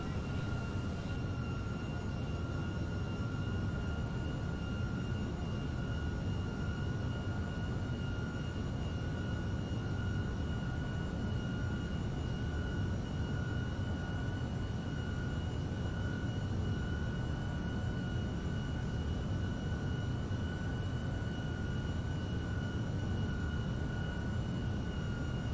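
An EasyJet A320 airliner on landing approach in Flight Simulator X gives a steady, continuous engine drone with a faint high whine, holding level and unbroken throughout with no voices.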